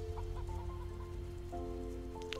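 Quiet clucking, fowl-like calls come from a bird in the survival video game Raft, a few short tonal notes over a low steady rumble that sounds like rain.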